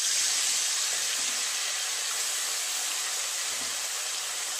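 Small chuno fish fry in hot oil in a kadai, a steady loud hissing sizzle that holds evenly throughout, with no voices.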